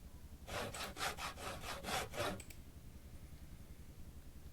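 Crafting a crossbow in the video game Project Zomboid plays as a wood sawing sound effect. About six rhythmic sawing strokes run for roughly two seconds, followed by a short faint click, then quiet background.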